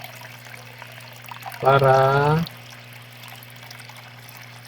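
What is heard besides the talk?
water being poured into a fish tank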